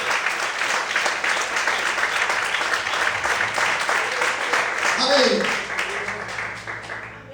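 Sustained applause from a church congregation fills the room, many hands clapping together under a voice calling out, then fading slightly toward the end.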